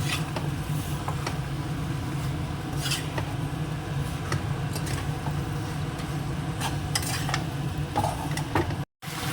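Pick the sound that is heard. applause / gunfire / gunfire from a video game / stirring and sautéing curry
stirring and sautéing curry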